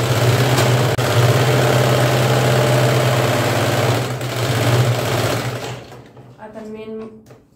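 A sewing machine stitches a seam on a readymade blouse with a loud, close, steady whirring drone for about six seconds, then stops. A voice is heard speaking briefly just afterward.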